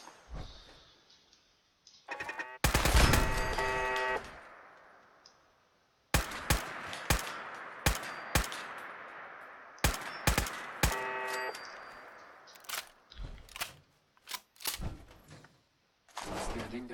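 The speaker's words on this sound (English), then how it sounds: "Turrets." Automated turrets in Fallout 4 fire several sharp short bursts, separated by mechanical clicks and whirs, with pauses between volleys. The shots are loud and close, and a voice is heard briefly.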